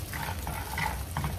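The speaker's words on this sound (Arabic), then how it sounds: "فراي بان، نحطو فيها ملعقة هيك صغيرة زبدة، ناخدو مجموعة هيك من المكسرات ونحطوها" Nuts toasting in a small spoonful of butter in a frying pan give a soft, steady sizzle with light stirring clatter, close and fairly quiet.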